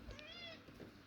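A single cat meow, short and rising, fairly faint and close, with a little background noise.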